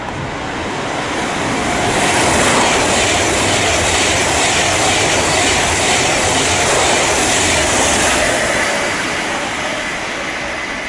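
Pendolino train 390122 trundles through Watford Junction on the West Coast Main Line, a loud, steady broadband roar that swells and fades slightly as it passes.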